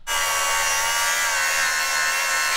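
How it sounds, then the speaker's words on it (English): A power tool grinds steadily against a metal front bumper bracket on an off-road bus, a loud, continuous high-pitched whine that starts abruptly and runs without a break, with no voices. "We definitely need to grind that front bracket off"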